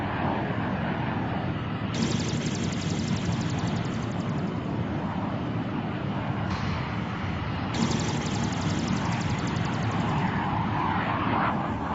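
A jet aircraft roars steadily overhead, a loud continuous rushing drone with surging hiss, no voices.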